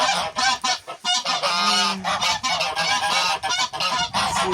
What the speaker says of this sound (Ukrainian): Ось тут білі гуси теж у мене